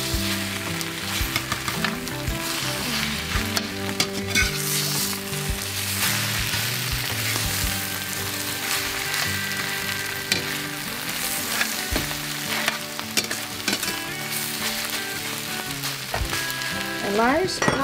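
Grape tomatoes being stirred in a hot frying pan: a steady, loud sizzle with repeated scraping and stirring sounds throughout, and no talk.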